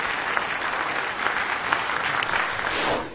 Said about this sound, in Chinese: 来掌声欢迎一下我们跨界的六位嘉宾